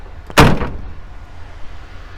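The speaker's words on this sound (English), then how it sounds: "Go ahead and close this door." A single sharp thud of a car door shutting nearby, followed by a quiet low background hum.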